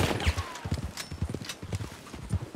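Horse hooves clip-clop in a steady, close rhythm across Red Dead Redemption 2, with a brief whinny in the mix, and no talking.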